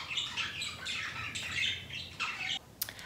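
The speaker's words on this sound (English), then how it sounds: "Birdies." Pet birds squawking indoors, a series of harsh, close, moderately loud calls in quick succession with a sharp chirp near the end.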